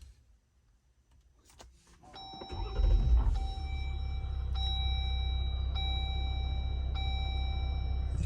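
A Jeep Wrangler Rubicon diesel engine cranks over and catches, then settles into a steady, loud idle rumble heard close up inside the cabin, with a few chime tones ringing over it.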